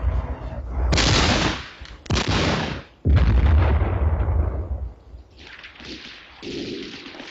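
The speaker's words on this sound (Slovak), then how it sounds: "ty sviniari strieľajú do vzduchu!" Soldiers fire guns into the air in a 1972 Slovak war film. Several loud, sharp bursts of gunfire crack out close together, each followed by a short echoing decay, then quieter scattered shots.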